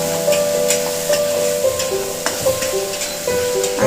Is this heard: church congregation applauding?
no